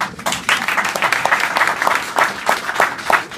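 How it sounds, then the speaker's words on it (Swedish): An audience applauds at an anniversary celebration of a Swedish industrial upper-secondary school, dense steady clapping from many hands that swells and ebbs in waves, fairly close and lively throughout. "Värt en applåd!"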